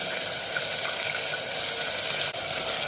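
Chicken and potato pieces sizzle steadily in a hot pan, a continuous close frying hiss with no voices over it.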